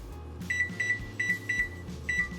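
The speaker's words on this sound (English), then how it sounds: "Set my timer so I don't forget." An oven timer is set on a kitchen oven, giving five short, evenly spaced electronic beeps close by against a low hum.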